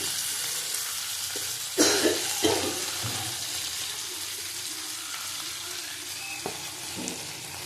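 Bitter gourd frying in a pan for shukto, a steady sizzle with a few sharper clinks and scrapes near the start and toward the end.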